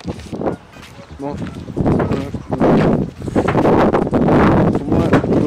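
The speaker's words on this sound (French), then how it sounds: "le vent, c'est trop casse-couille" Gusty wind blows outdoors on an open plot of land, buffeting the microphone in loud, rough bursts, with people talking under the rumble.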